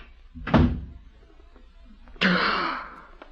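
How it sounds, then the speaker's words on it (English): A door shuts in an old radio drama, a sharp thunk early on followed a moment later by a second broader bang, both loud and close in an otherwise quiet room. "I want the door shut!"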